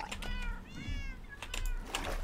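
Repeated mewing from a blocky Minecraft cat, two or three bright, wavering meows close by against a faint continuous hum and light clicking.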